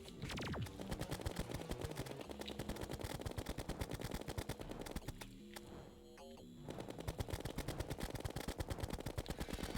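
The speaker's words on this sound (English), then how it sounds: "line up our shots to just deal tons of damage to these guys" Rapid gunfire from shooting enemies in the video game Terraria, dense continuous bursts of loud shots with a brief lull in the middle before the barrage resumes.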